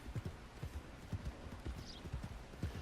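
Steady clip-clop of horse hooves in Red Dead Redemption 2, a quick, even rhythm, moderately close, with no talking.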